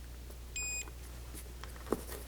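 A multimeter gives one short, clean continuity beep during a transistor test on a Philips 22VP931 laserdisc player, over a quiet low hum with a small click after.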